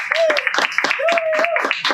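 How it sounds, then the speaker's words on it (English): Audience at an improv comedy show clapping in quick, uneven bursts, with a whoop or whistle-like cheer rising over the claps twice; close, busy and lively, about two seconds long. "All right, applause for Brianna"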